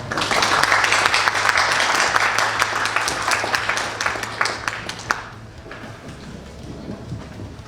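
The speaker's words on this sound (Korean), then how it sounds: "박수로 맞아주시기 바랍니다" An audience at a Korean seminar on Japan job careers applauds to welcome a trade-association executive, a full burst of clapping for about five seconds that then thins out into a quiet room hum.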